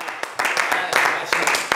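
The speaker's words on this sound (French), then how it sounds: "Eh bien, ces applaudissements" Studio audience applause on a TV show, a burst of clapping that swells and continues briefly, close and lively, with no talk.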